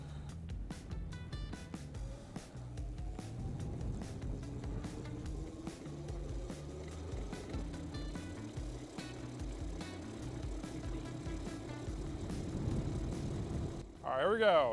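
A SpinLaunch rig with a rocket loaded spins back up, a motor whine climbing slowly in pitch over rattling mechanical noise, then cutting off near the end.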